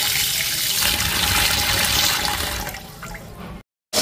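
Tap water pouring steadily to soak tangra fish, a close, loud rushing stream that fades near the end and cuts out briefly before resuming.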